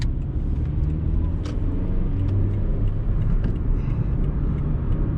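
A 2008 Suzuki Swift 1.3 hatchback engine hums and rumbles steadily while driving, heard from inside the cabin, with road noise and a few light knocks.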